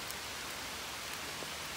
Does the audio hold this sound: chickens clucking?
no